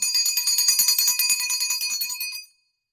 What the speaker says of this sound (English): I really love this chime.